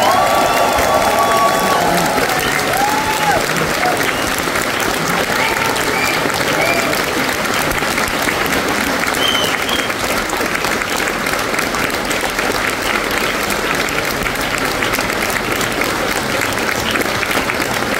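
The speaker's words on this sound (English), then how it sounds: "So how about a round of applause for Mr." Long, sustained applause with scattered cheers and whistles from a concert audience at Cambridge Junction, dense and close, rolling on steadily for many seconds as a voice briefly speaks over it.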